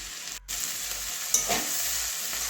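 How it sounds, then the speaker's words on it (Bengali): Potatoes and cauliflower frying in oil in a pan, with a steady close sizzle and a brief stirring scrape partway through; no talking. "একটু লাল লাল করে ভেজে নিয়েছি"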